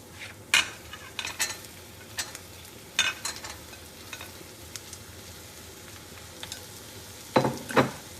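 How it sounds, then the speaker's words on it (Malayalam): Cauliflower stir-fried in a pan for Kerala-style thoran, a low sizzle under a series of sharp clinks and scrapes from a utensil stirring, the louder knocks spaced irregularly near the start and the end. "ഈ സമയത്ത് നമുക്ക് കോളിഫ്ലവറും കൂടെ ആഡ് ചെയ്യാം."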